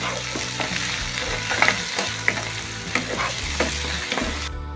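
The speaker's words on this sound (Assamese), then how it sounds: "পিঁয়াজখিনি অকণমান দেৰি ভজাৰ পাছতে মই কাটি থোৱা বিলাহীখিনিও দি ল'লোঁ" Onions and chopped tomatoes frying in a pan, a close, steady sizzle with repeated scraping and clicking of a spatula stirring, continuous throughout.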